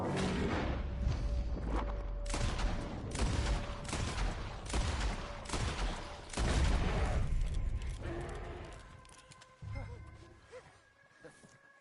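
Rapid bursts of gunfire in a Red Dead Redemption 2 fight, loud repeated volleys over the first half, then fading into quieter scattered sounds and ambient tones, with voices heard in the scene.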